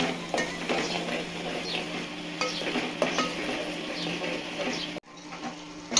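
Onion, garlic and ginger fry in a pan for yogurt raita, a soft sizzle under repeated scraping and stirring strokes with a spoon, close and fairly loud, briefly cutting out near the end.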